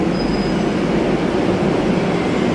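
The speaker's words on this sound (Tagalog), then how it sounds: "Yan ang train." Train at a railway station in Spain, a loud continuous low rumble of the carriages filling the platform with no voices.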